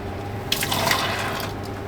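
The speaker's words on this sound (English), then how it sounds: "Now we're going to pour the other one in." Hot drink being poured into a cup with sugar at the bottom: a short splashing pour starts abruptly, close and moderately loud, then trails off into a faint liquid trickle.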